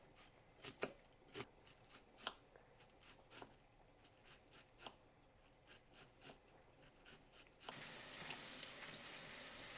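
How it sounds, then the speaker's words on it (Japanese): Half an onion being finely minced with a knife for tartar sauce to go with chicken nanban, a run of sharp irregular chopping taps on a board, followed near the end by running tap water, with no talk. "みじん切りにします。"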